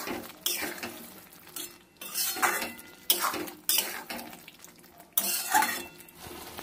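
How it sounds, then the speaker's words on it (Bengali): A metal spoon stirs and sautés drumstick stems and fried potatoes in a pan, with bursts of scraping and clanking strokes against the pan and a soft sizzle running between the strokes. "ডাঁটা আর আলু দিয়ে ভালো করে কষিয়ে নেব।"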